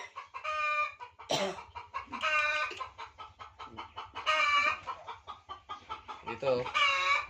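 Broiler chickens on a farm in La Union cluck and call in loud, repeated bursts, several birds close by, with a faint voice under the calls.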